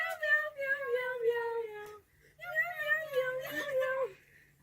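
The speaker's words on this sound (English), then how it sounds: "Meow, meow, meow." Two long, drawn-out, wavering meows, each lasting about two seconds with a short pause between, close and clear over a faint steady hum.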